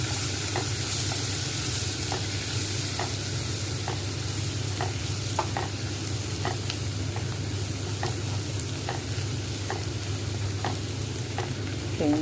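Ground spices with Kashmiri chili powder and turmeric are stirred in a sizzling pan, a steady frying hiss under regular scraping strokes of a spoon, close and continuous with no talking.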